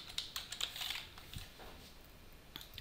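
Typing on a computer keyboard while filling in a Word form, quick irregular clicks in short bursts, close and fairly quiet, with no voice.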